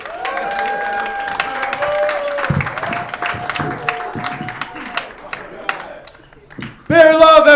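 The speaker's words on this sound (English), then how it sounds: "Clap your hands for him." Comedy club audience applauding a comedian at Gnarly's in Golden, Colorado, a sustained wash of clapping and cheering with tonal voices over it, ending in a louder burst.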